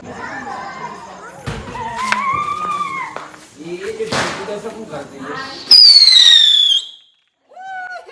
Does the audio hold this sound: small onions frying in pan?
no